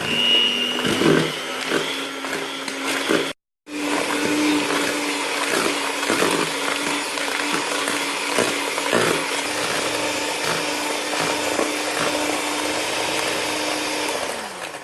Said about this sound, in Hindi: अब मैं एक बीटर की मदद से इसको बीट कर लूंगा, एक जैसा मिक्स कर लेंगे।